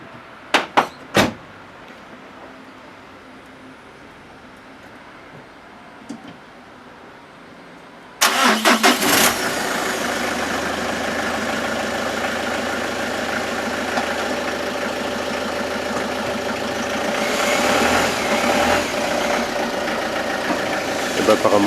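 Peugeot 206 during a clutch cable test: a few sharp clicks and knocks, then the engine cranks and catches, settling into a steady, close idle that continues to the end, rising slightly in the later part.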